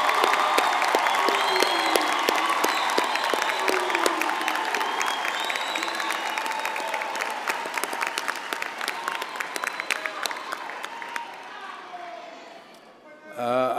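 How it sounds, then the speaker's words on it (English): Audience applause for graduates at a university graduation ceremony, sustained clapping with scattered cheers and voices that gradually thins and fades out near the end. "a big hand of applause"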